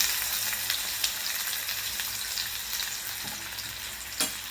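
Finely chopped onion frying in hot oil in a kadhai, a dense, steady close-up sizzle with a few light stirring scrapes and clicks and no talking.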